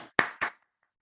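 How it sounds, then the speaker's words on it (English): Two crisp, close hand claps in quick succession, about a quarter second apart, followed by silence. "I will clap"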